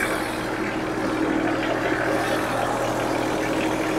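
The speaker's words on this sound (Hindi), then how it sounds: "ये इंजन है, कबूटा का इंजन है," A Kubota three-cylinder diesel engine on a used Japanese Denyo generator, running at a steady, loud idle with a continuous low hum and rumble and no speech.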